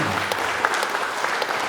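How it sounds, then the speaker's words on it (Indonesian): Dense, steady audience applause for a group of children at a village literature gathering fills the whole short stretch at an even, moderately loud level. "Tepuk tangan buat anak-anak kita yang ini."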